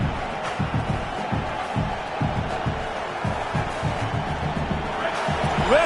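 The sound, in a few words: stadium crowd roaring at a football game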